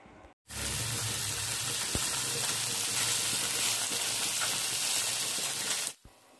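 Freshly flipped chicken tandoori pieces sizzle hard in a pan, a dense, even frying hiss that starts abruptly, holds steady for several seconds and then cuts off sharply, with no talking.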